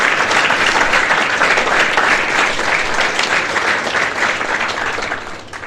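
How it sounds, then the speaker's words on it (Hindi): Loud, sustained crowd applause at a motivational student talk, a thick wash of many hands clapping for several seconds before tapering off slightly at the end. "नविंदर मैम आई नहीं, उनके लिए जोरदार तालियां बजा दीजिए।"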